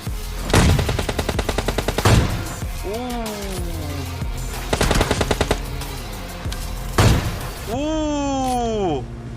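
Rapid bursts of automatic gunfire from the video game PUBG Lite ring out in several loud volleys, separated by sharp whooshing game effects and short pauses.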